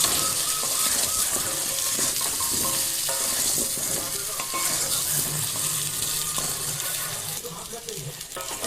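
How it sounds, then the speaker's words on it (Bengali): Potatoes frying in oil until reddish, a busy sizzle broken by repeated stirring and scraping of the pan, with faint voices in the background. "আমি ঠিক আলুগুলো এরকম করে লাল লাল করে ভেজে নেবো"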